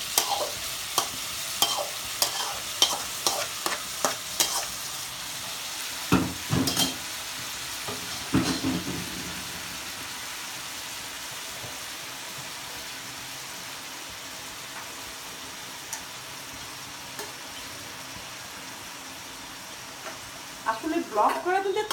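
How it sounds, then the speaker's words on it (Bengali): Bitter gourd slices frying in a hot wok, steady sizzling punctuated by repeated scraping stirs in bursts at the start and end, close and fairly quiet. "কড়াইটা না দেখানো বেশি কড়া করলাগুলো দিয়ে দিচ্ছি"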